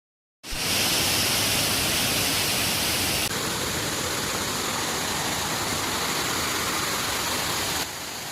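Kothapalli waterfalls in Araku valley pour down in a loud, continuous roaring rush of water, steady and broadband throughout after a brief silent start.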